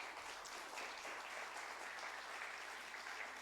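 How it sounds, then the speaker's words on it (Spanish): A church congregation claps together in sustained, even applause, heard at a low level from within the hall with no speech over it. "denle una ofrenda de palmas a Jesús por eso"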